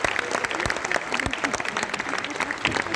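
Audience applause for a poet at a Hindi poetry recital, dense steady clapping throughout with a few sharper claps standing out, fairly close and continuous.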